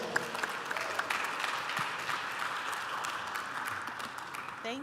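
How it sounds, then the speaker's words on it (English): Conference audience at an annual tech gathering applauding, steady dense clapping from a large crowd filling the whole stretch, fairly distant and even. "A round of applause."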